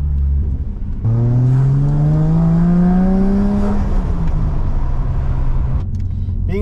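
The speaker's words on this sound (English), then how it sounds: "She's a bit aggressive on takeoff." A lowered JZX100 street car on coilovers accelerates hard from a takeoff, loud engine pitch climbing steadily through a gear before easing off, heard from inside the cabin.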